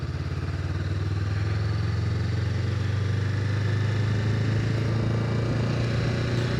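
A 2025 Honda Rebel 500 motorcycle engine drones steadily and close as the rider pulls away and shifts up to second, with a continuous rumbling note and no talk.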